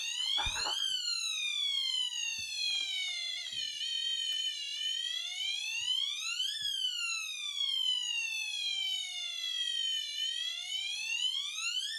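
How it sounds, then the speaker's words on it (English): Electronic leak detector alarm beside an external aquarium canister filter, sounding a continuous loud warbling siren-like tone that sweeps down and back up in slow repeating cycles, close and alone with a faint knock or two underneath. "I dry off the leak detector to stop the noise"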